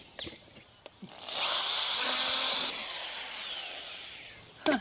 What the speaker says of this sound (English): What we're going to do next is we're going to take this smaller drill bit